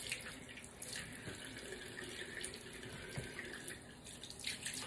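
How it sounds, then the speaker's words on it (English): Tap water running steadily into a sink while hands are rinsed under it, a quiet, close, continuous splashing hiss with small fluctuations and no talking. "rinse this off my hands."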